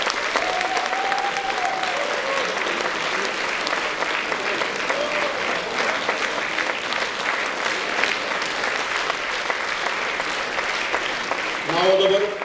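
Sustained applause from a crowd at a band's twentieth-anniversary jubilee concert, dense clapping with voices mixed in and a brief tonal sound near the end.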